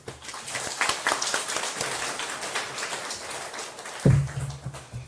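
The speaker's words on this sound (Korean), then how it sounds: "우리 힘찬 박수로 한번 모시겠습니다." A church congregation applauds during a Sunday afternoon worship service, a steady wash of many hands clapping throughout, with a brief voice breaking in near the end.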